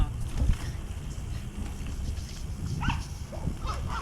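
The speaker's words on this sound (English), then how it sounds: "I'll bet that is a totally friendly dog." Dog barking at a distance outdoors on a foothills trail, a few scattered short barks over steady background rumble.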